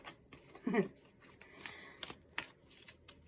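Soft, close riffling and flicking of tarot cards being shuffled in brief uneven bursts, quiet and intermittent.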